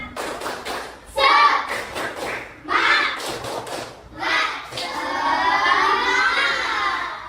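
Children in a classroom clap out the tepuk semangat chant together, rhythmic bursts of group clapping mixed with young voices shouting and chanting along, fairly close and lively.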